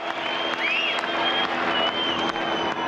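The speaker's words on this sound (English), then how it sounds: "Give him a big cheer." Crowd at the Clipsal 500 motor race celebrating winner Jason Bright in 2001, steady applause and cheering held at moderate distance, with whistles rising above the clapping throughout.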